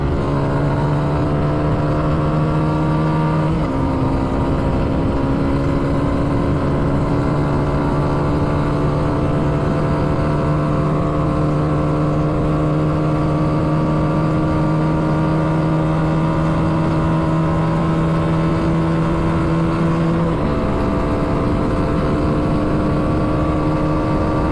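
A motorcycle with 30,000 km on it accelerates hard toward about 150 on the open road, a loud, steady engine drone that climbs in pitch, with two clear gear shifts.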